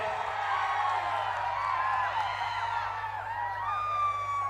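A large crowd at an outdoor political public meeting in Rajam, Andhra Pradesh, cheers, whoops and claps steadily throughout, a dense continuous roar with shrill whistles rising above it.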